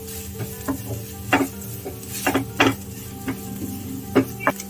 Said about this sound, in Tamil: தேங்காயும் நல்லா லோ ஃப்ளேம்லேயே நல்லா இது கலர் சேஞ்ச் ஆகிற வரைக்கும் நம்ம வதக்கி எடுத்துக்கலாம்